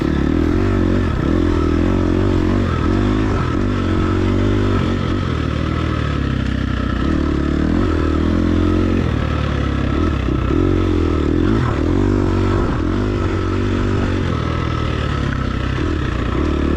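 A motorcycle is ridden hard in a race, its engine loud and close with a droning tone that rises and falls as the rider shifts and revs, joined by occasional scraping clatter.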